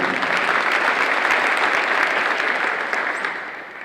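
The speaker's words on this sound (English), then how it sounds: "You've met her before, but make some noise for Jada Black." Audience applauding at a school ceremony as students are introduced, a steady dense clapping that holds strong for about three seconds before beginning to fade.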